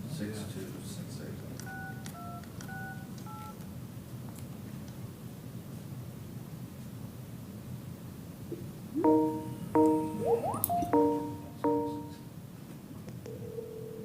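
Telephone keypad tones dial a number for a phone conference, a short run of beeps, then a louder cluster of dialing tones and ringing, with faint room noise underneath.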